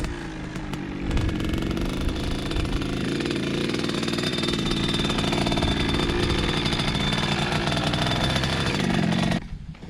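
Kawasaki KX100 dirt bike ridden in first gear in Guam, its small two-stroke engine buzzing loud and close in a sustained raspy drone, then cutting off abruptly near the end.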